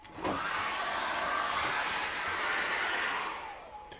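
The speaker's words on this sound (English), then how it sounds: "I'm going to blast this with a hairdryer" A hair dryer switches on and blows with a steady, loud whirring rush for a few seconds before winding down.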